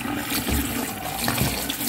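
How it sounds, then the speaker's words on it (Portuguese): Cooked pasta is rinsed under a cold running tap, a close, continuous splashing water rush with brief surges, heard alone with no talking. "Passo assim na água fria, né? Que é pra interromper o cozimento."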